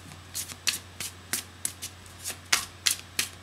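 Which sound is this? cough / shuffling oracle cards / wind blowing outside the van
shuffling oracle cards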